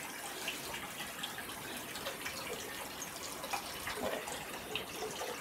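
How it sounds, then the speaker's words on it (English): Tap running to fill a sink with water for a bath bomb, a steady, soft hiss of pouring water throughout, continuous and fairly faint with no voices. "So, filling it up with water over here."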